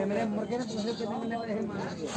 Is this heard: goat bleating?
yes